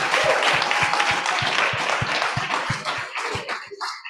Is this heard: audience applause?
yes